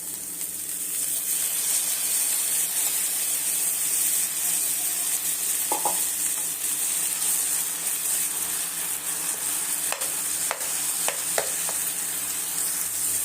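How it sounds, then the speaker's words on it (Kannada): Onion and capsicum frying in a pan for egg gojju give a steady close sizzle that runs throughout, with a few light scrapes and taps of a stirring spoon against the pan. "ಈರುಳ್ಳಿ ಕ್ಯಾಪ್ಸಿಕಮ್ ಎಲ್ಲ ಚೆನ್ನಾಗಿ ಫ್ರೈ ಆಗಿದೆ ಈಗ ಟೊಮೊಟೊ ಹಾಕ್ತಾಯಿದ್ದೀನಿ"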